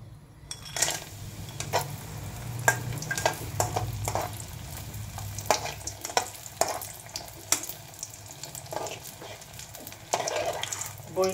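Lentil dumplings (bori) frying in hot oil, a steady crackling sizzle broken by sharp spatters and clinks of a utensil against the pan, close and fairly loud throughout.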